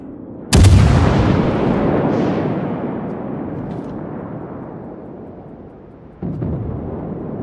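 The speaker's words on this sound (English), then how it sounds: "Concentrate fire on the target." Heavy naval guns in a World of Warships battle boom out in one massive blast whose rumble decays over several seconds, with a fainter distant shot midway and a second strong report near the end.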